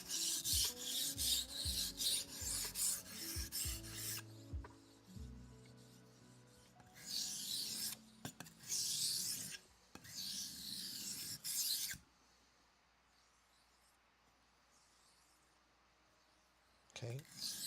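Knife edge scraped on a sharpening stone to remove a burr, heard as bursts of rough rasping strokes broken by pauses, soft clicks and quiet handling, with a stretch of near silence before a final stroke.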